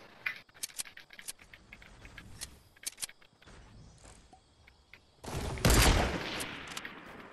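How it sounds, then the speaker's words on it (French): Gunfire in the Fortnite video game during a squad match: scattered sharp shots crackle through the first half, then a loud, dense burst of rapid fire erupts near the end. "Ça nous tire dessus de derrière"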